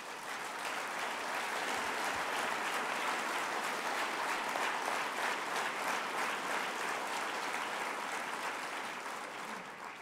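An audience at a speech claps steadily for about ten seconds, dense and even applause from a crowd that fades slightly at the end, with no talking over it.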